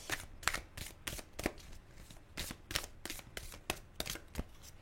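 Tarot cards shuffled by hand for a reading, a close series of crisp riffling and slapping bursts in an irregular rhythm, with no voice over them.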